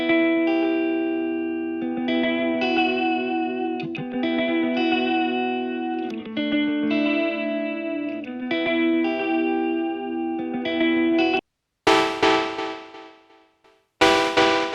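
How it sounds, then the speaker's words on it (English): Chorus effect from a modulated delay time on a sustained, chord-rich instrument sound, giving a shimmering, slightly warped pitch over steady rhythmic hits, followed by a short break and two brief processed bursts. "By modulating the delay time, you create vibrato or the classic chorus effect."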